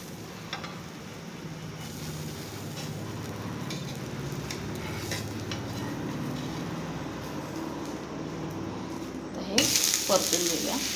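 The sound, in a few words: besan chila frying in oil on pan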